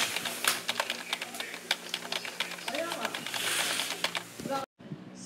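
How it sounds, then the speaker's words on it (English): Rapid keyboard typing fills the space with a dense run of close clicks, fairly steady with small bursts, then stops abruptly near the end. "I got to type."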